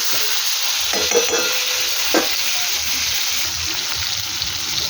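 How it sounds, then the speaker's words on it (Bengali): Pointed gourd and potato pieces fry in a pan with a steady, close hiss, while a spatula scrapes and stirs with a few sharp clacks against the metal. "একটু ভাজা ভাজা হবে"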